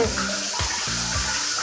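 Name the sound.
water running from a tap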